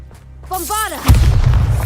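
A Bombarda blasting spell goes off in the Hogwarts Legacy video game, a single heavy booming explosion with a rumbling tail, preceded by a short whooshing magical cast and a brief voice.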